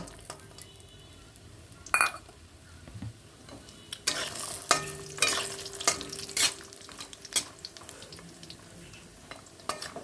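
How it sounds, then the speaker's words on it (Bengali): Bori lentil dumplings fry in oil left over from frying tilapia, a soft low sizzle broken by a few sharp clinks and scrapes of a spatula stirring in the pan. "এবার ওই মাছ ভাজে তেলে আমি বড়িটা ভেজে নেব"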